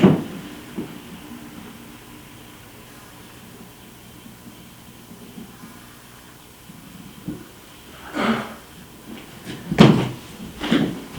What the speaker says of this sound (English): It sounds like somebody's getting through those doors.